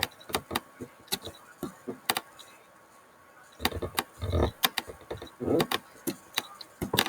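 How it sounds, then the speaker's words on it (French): Computer keyboard keys clack in irregular bursts close to the mic, sharp separate taps with quiet gaps, while a voice murmurs softly in places. "Ça, c'est le bruit de mon clavier."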